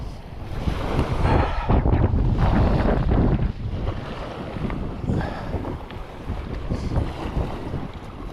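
Strong wind buffets the microphone on a causeway in cold, rainy weather, producing a loud, continuous rumbling roar with gusts that swell and ease, and no voices.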